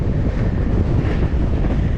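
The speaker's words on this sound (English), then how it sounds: "I can't put into words how windy it is" Strong wind batters the microphone on a Scottish mountain ridge in the Munros, a loud, constant roaring buffet with no letup.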